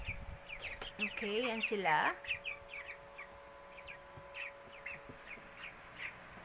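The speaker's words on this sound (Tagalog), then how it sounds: "So, ayan yung mga sisiw ko, guys." Broiler chicks in a brooder give short, high cheeping peeps scattered steadily throughout, close and moderately soft, while a person talks briefly near the start.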